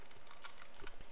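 A few quiet key presses on a computer keyboard entering a Control-Shift-V paste shortcut on an Ubuntu Linux machine, soft brief clicks over a faint hiss.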